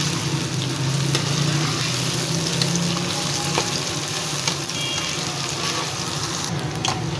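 Beef korma sizzles and fries in a pot while being stirred, a steady close crackle with occasional scraping clinks and no talking.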